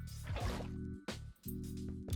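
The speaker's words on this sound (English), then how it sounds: "Let me pick the water up for a second." A game sound from the Minecraft GregTech: New Horizons modpack: water scooped up into a bucket, heard as two similar liquid swishing bursts with a short gap between, alone and fairly clear.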